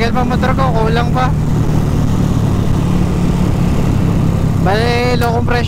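A low-compression racing motorcycle engine runs with a steady, loud, buzzing drone throughout, and rising revving tones swell briefly near the start and again near the end.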